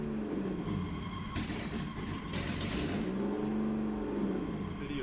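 A BMW E36 fitted with a junkyard BMW engine, after sitting for six years, fires up and revs, its mid-pitched engine note rising and falling at close range with no talking.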